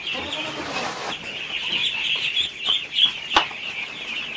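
Ducklings being let out of their shed on a farm in the morning, a steady chorus of high, overlapping peeps and chirps that continues throughout, with a sharper call standing out near the end.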